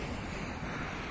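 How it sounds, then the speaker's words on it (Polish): Wind blowing outdoors, a steady rushing roar buffeting the microphone with broad continuous noise and no other sounds. "bo trochę wiatr wieje."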